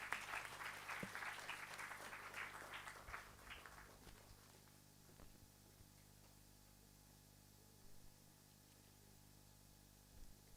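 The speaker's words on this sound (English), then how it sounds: "May I call for a huge round of applause in recognition of their huge contribution." An audience at a Women's Day celebration applauds loudly at first, and the clapping thins out and fades to near quiet over several seconds.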